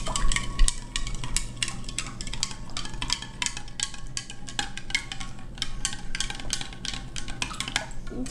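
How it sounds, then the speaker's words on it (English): Salt water being mixed in a jar for a floating egg experiment, with rapid repeated clinks and scrapes of a utensil against the container over a low background hum, close by and without talk. "Mix it really good, but you have to mix it on the bottom part."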